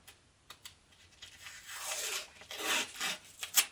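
Tape torn off a roll to wrap a knife blade in a workshop, a few quick ripping and rasping pulls building toward a louder final tear, close by with no talk.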